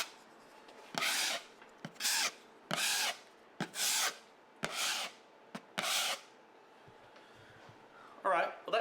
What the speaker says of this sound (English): I've got quite a wide trowel. Makes it nice and easy to push that along and smooth it off.